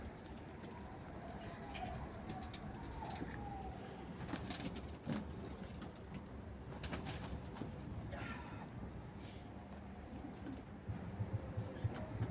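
Rambo breed pigeons cooing in a loft, a continuous low murmur of many birds close by with faint flutters, a distant siren and traffic in the background, and a voice talking now and then.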